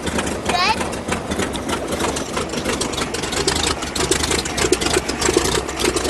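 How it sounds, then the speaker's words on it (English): A 1974 International Fleetstar ex-fire truck's heavy diesel engine idles at about 450 RPM with a low, steady chugging rumble, loud and close, with a brief whistle-like tone near the start. "That thing's idling at like 450 RPM."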